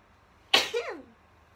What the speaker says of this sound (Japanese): かわいいくしゃみでそのうわーって出た。